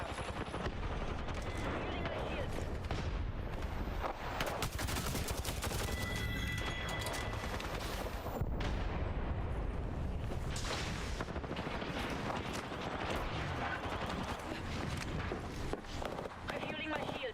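Video game firefight with a frag grenade thrown and dense, continuous gunfire bursts and booms, loud throughout, with a voice talking over the battle.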